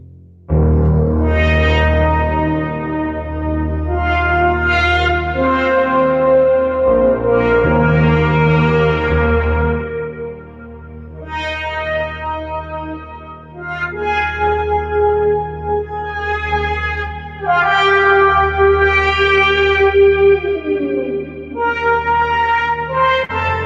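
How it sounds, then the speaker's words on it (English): A sustained synthesizer playing chords and melodic lines, drenched in long, washy reverb that makes the tones swell and hang in the air. "more reverb. Put me in church."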